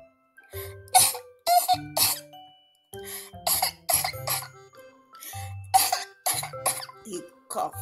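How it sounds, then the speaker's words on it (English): A storyteller voices a honey badger's pretend coughs, a series of deliberate harsh coughs and throat clearings in uneven bursts, close and fairly loud. "He coughed."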